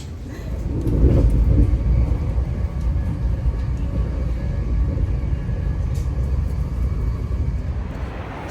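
Steady low rumble fills the interior of a moving train bound for Berlin, a loud continuous roar with a slight swell early on and no clear voices above it.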